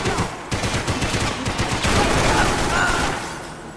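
Rapid, dense bursts of gunfire in the video game Max Payne 3 crackle almost continuously, loud and close, with a faint voice under the shooting.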